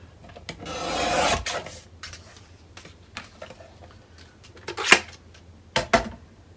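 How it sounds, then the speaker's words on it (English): A half-inch paper strip being cut for a craft page: one long scraping cut close by, then scattered light clicks and taps of tools and paper. "Let me cut a 1/2 inch piece, a strip"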